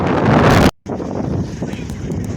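Strong wind roars and buffets the microphone in a loud, continuous rush, cutting out briefly before gusting on, in Lincolnshire, England.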